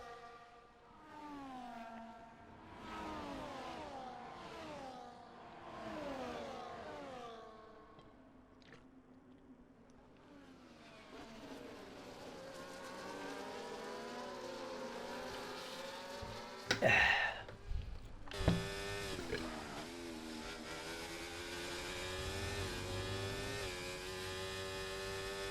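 Race cars at the Belgian Grand Prix in a racing video game, engines whining and rising in pitch through gear changes, several cars passing close with a sharp loud burst midway, then a steady high engine drone.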